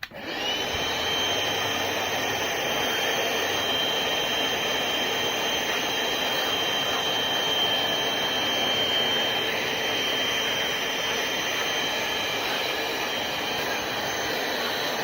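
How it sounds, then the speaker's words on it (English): A vacuum sucks up debris from a scored VR6 engine block during a big-turbo engine build, giving a steady, loud, unbroken whooshing roar for the whole stretch, with no voices. "So I'll vacuum all of this debris up"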